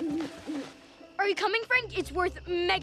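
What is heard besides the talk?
owl hooting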